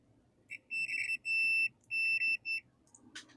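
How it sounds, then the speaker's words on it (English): Several clear electronic beeps from a multimeter continuity test on an alternator, steady high-pitched tones in short bursts of varying length, followed by a brief click. "I don't know if you can hear that beep."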